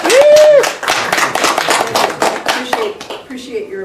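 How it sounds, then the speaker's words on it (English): A small group at a Toastmasters mentoring meeting claps for a speaker, close and loud, with distinct individual claps and a brief vocal exclamation at the start, tapering off near the end. "I'd like to give a rounding of applause for Circe"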